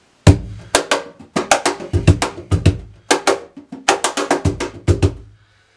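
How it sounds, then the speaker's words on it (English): Nautilus bamboo cajon played with simple slap corners and snares engaged, a quick run of sharp slaps with buzzy snare rattle, closely miked, loud and solo in uneven groups of hits. "So this is the one with simple slap corners, and I have the snares engaged right now at a particular setting that I like"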